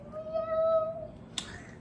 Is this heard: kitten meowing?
yes